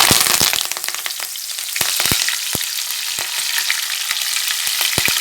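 Curry leaves fry in hot oil with a loud, crackling sizzle and sharp irregular pops spattering throughout.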